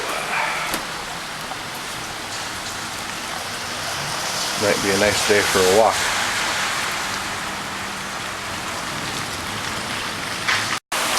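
Steady rain falls during a daytime thunderstorm outside an apartment, a constant hiss of drops heard near a window while someone talks briefly over it.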